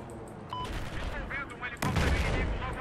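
Gunfire in Battlefield 1, with scattered shots and a heavy burst of rapid fire in the last second, under a player's excited voice.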